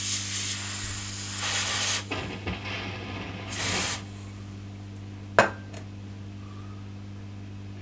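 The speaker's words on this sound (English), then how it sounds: "Bit of freezer spray." Two bursts of freezer spray hissing loudly over a steady low electrical hum from a Fender Pro Reverb guitar amplifier with a crackling fault, followed by a single sharp click and then only the hum.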